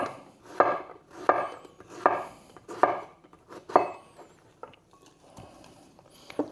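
A knife slices through courgettes squeezed together on a board, making about five sharp, evenly spaced chopping knocks up close, followed by quieter handling sounds.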